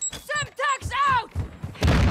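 A Semtex grenade goes off with a loud, broad burst near the end in the video game Call of Duty Modern Warfare 2, after a stretch of shouted in-game voice lines and dull thumps.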